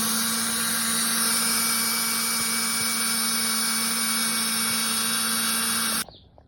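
A step drill bores holes in the metal fender of a 1962 Chevy Impala with a steady, loud, high-pitched grinding whine. It runs without a break for about six seconds, then cuts off abruptly.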